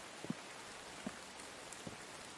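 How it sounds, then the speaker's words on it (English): Rain in a video game, a faint, steady hiss of falling drops with a few soft low thuds spaced through it, quiet and without talk. "I don't mind this rain if it means the temperature's going to stay down."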